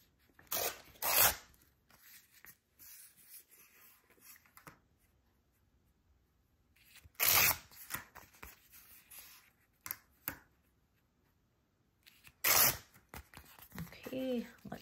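Paper torn by hand into a narrow strip about a quarter inch wide, heard as a few short, crisp ripping bursts spaced apart with quiet handling noise between.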